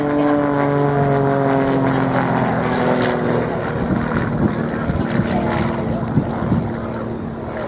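A Grob Tutor propeller aircraft drones steadily overhead at an airshow, its engine tone loud and continuous with wind buffeting, while a commentator talks over the sound.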